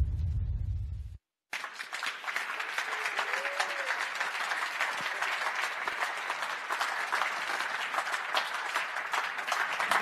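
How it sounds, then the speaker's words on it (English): After a short pause, an audience breaks into sustained, even applause at the unveiling of the 2019 Mission Winnow Ducati Desmosedici GP19 livery, filling the room with steady clapping. "I'm glad we got a round of applause"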